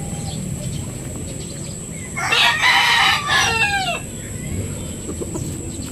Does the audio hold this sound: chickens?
yes